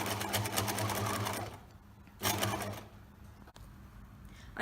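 A sewing machine stitches fabric for an apron in fast rhythmic bursts. It runs, pauses, then starts again, close and clear, with quiet room noise in the gaps.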